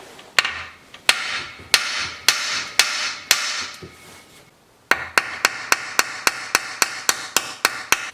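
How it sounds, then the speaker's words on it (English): A hammer pounds a socket onto a seized transmission bolt of a Dodge SRT-4 in a series of loud, sharp metallic strikes, first spaced and ringing, then a faster, steady rhythm of close blows. "So apparently the key is to hit it really hard, then pound the socket into it"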